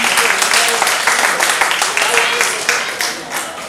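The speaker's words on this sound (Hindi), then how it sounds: "एक बार जोरदार तालियां" A crowd at a retirement celebration for a teacher gives sustained, dense applause, many hands clapping close and loud, gradually tapering off toward the end.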